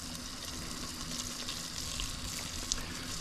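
Steady rushing water fills the scene as a river rises around an airboat outing on the Saint Mary's River, a continuous broadband wash with small splashes and no speech.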